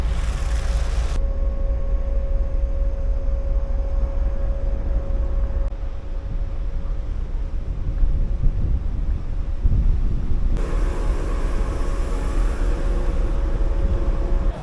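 Strong wind buffets the microphone on the open pool deck of the cruise ship Norwegian Dawn, a loud continuous roar with low rumbling gusts that rise and fall over nearly fifteen seconds, no talking.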